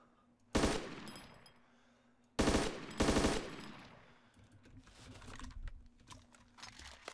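Loud, close gunshots from a firearm in the video game DayZ: one sharp blast, a pause, then two more in quick succession, followed by fainter clatter and rustling.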